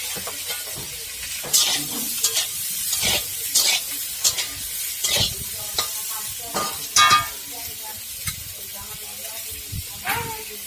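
Aloo phulkopi paneer (potato, cauliflower and paneer) frying in an uncovered pan: steady sizzle broken by repeated scraping and clattering strokes of a spoon stirring, fairly close and loud.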